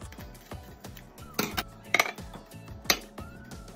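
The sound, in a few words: dessert ramekins clinking as they are moved into a pot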